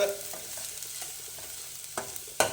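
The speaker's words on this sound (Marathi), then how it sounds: "आपण चिरून घेतलेला जो कांदा आहे तो कांदा त्याच्यामध्ये घालून घेऊ" Chopped onion fries in a pan, making a soft continuous sizzle with a few sharper clatters and scrapes of stirring near the end.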